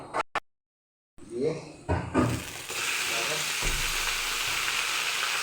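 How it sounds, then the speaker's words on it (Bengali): Mutton, about one and a half kilos, is dropped into hot oil over fried onions: a few short knocks and a brief pause, then a burst of loud sizzling that settles into a steady, even frying hiss, with a voice speaking briefly at first. "এই দেখো মাটনটাকে দিয়ে দেব তেলের ওপরে"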